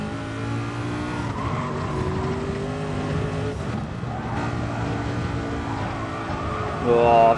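Racing car in a driving game, engine roaring steadily as the car brakes extra heavily into a corner, with tire noise and a swell of skidding near the end, loud and close.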